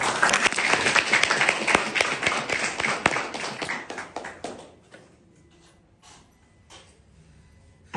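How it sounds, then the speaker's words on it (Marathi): Audience at a talk bursts into loud, close applause with dense rapid clapping that fades away after about five seconds, leaving a few scattered taps and near silence. "त्या सगळ्यांच्यासाठी जोरदार टाळ्या वाजूया"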